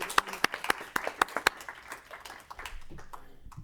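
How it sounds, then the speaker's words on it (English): A few scattered, sharp claps ring out at a community health town hall before thinning into a quiet murmur, with faint voices underneath. "How about a round of applause?"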